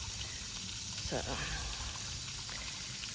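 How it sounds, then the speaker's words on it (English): Water pouring into a birds' favorite water bowl kept outdoors under the chairs, a steady trickling splash beneath a low background hiss, with a brief spoken word partway through. "I'm keeping this favorite water bowl of theirs here under the chairs filled"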